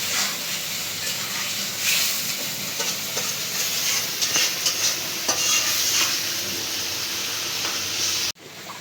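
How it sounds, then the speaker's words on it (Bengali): Marinated hilsa fish sautés in hot oil in a village kitchen, a loud, steady sizzle and hiss with stirring scrapes, ending abruptly, no speech. "মেরিনেট করা মাছ তেলের উপরে কষাই নিব কিছুক্ষণ"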